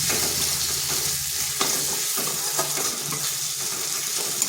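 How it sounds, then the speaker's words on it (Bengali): Ginger, garlic and green chili paste frying with spices in a pan for a yogurt katla fish curry, a loud close sizzle with intermittent stirring scrapes and clinks throughout. "এটাকেও একটু ভেজে নিচ্ছি"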